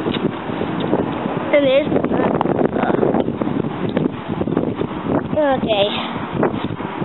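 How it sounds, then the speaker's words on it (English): Gusty outdoor wind buffets a handheld camera microphone as a steady low rumble and rustle, with people talking and chattering over it throughout. "Ah, the wind."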